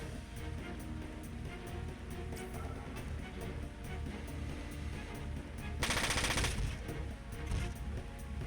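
Turret machine guns in Front Mission 4 fire a steady rapid stream of shots, with a louder, denser burst partway through, over continuous game sound.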